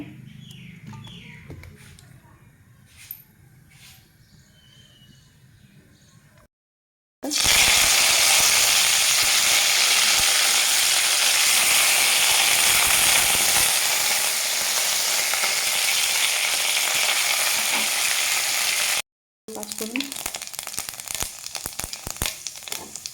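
Oil hisses loudly in a pan while banana flower is cooked for a Bengali dish. After a few quieter seconds with faint clinks, a dense, close sizzle runs steadily for about twelve seconds, breaks off briefly, then comes back.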